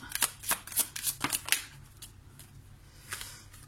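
Tarot cards handled and dealt out one by one on a table, a run of crisp, close riffling slaps and flicks early on, then quieter soft rustles over a faint low hum.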